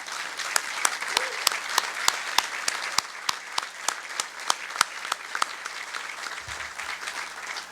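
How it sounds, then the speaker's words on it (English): A banquet audience at the Friendly Sons of St. Patrick 110th annual dinner gives a round of applause, a steady patter of many distinct claps that holds evenly through the whole stretch. "I ask everyone to join me in offering a round of applause and our thanks to Jimmy for a job well done"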